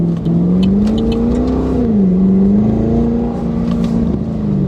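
A Chevy SS LS3 V8 with a cold air intake revs steadily, its deep drone rising and dipping slightly, loud and close with a throaty intake roar.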